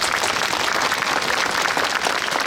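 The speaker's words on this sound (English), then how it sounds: "let's applaud the veterans one more time" Audience applause at a school Veterans Day ceremony honoring veterans, a dense, steady wash of clapping that holds evenly loud throughout without any voices.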